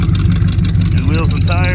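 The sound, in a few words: 1986 Chevrolet C10 truck engine running loud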